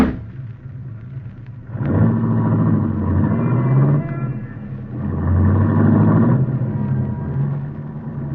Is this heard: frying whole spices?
no